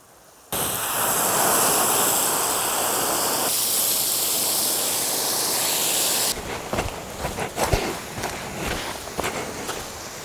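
Water gushes onto a planter bed in a homestead vegetable garden, giving it a good soaking. A steady, close rushing spray lasts about six seconds, then cuts off, followed by scattered clattering steps and knocks.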